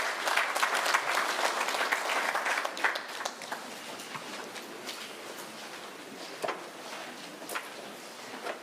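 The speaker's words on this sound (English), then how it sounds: "Let's give a round of applause" Audience applause at a prisons and correctional service parole conference in Zimbabwe: a full burst of clapping that fades after a few seconds into scattered, thinning claps.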